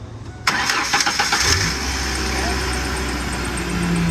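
A 1998 Ford Ranger engine cranks briefly and catches, then settles into a steady idle close by, with a faint high whine carrying through.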